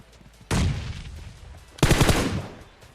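Gunfire in Battlegrounds Mobile India comes as two loud sustained bursts of rapid automatic shots, each cutting in abruptly and trailing off with a short gap between them.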